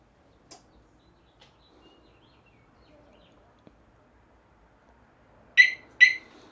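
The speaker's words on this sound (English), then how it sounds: "when you shut the bike down, about 5 seconds later, it will actually arm itself, and you will hear a chirp" Two short, bright electronic chirps in quick succession near the end as a 2023 Harley-Davidson Nightster Special's alarm arms, after several seconds of near silence with faint background sounds.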